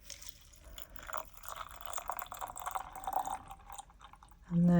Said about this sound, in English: top this up with some water.